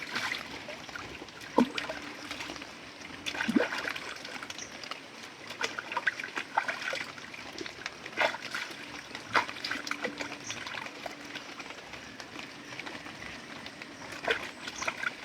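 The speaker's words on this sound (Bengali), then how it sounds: "ভালো বড় মাছ তো তাড়াতাড়ি ধোয়া হয়ে যায়।" Tilapia fish being rinsed in water in a village kitchen, with steady close trickling and splashing and scattered sharp knocks, running alone without talk.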